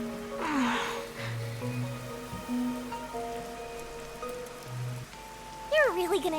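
Steady rain pattering in the Master Detective Archives video game, a faint constant hiss under soft musical tones and occasional game chimes.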